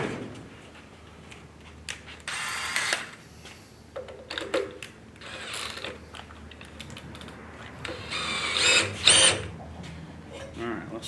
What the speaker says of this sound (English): and then you just put a drill on the top